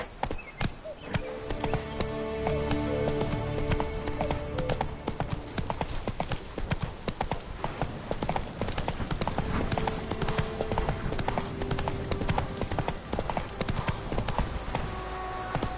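Roach, Geralt's horse in The Witcher 3, galloping with rapid, rhythmic hoofbeats close up over a rushing, dense game soundscape, with a brief whinny and some talk mixed in.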